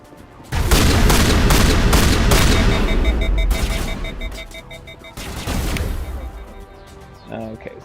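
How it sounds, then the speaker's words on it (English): Dense enemy gunfire erupts loudly in the Mass Effect video game, a sustained burst of rapid shots with heavy booms that eases off midway and then flares up again, ending in a few scattered electronic blips. "And we got something shooting at us."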